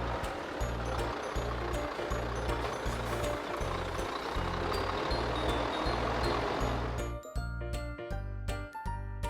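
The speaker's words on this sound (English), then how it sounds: "Garbage truck." A city garbage truck rumbles with a pulsing low diesel drone and rhythmic mechanical thumps under a wash of hissing noise, ending with sharp clanks and tinkling metal.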